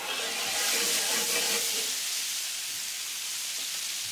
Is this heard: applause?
no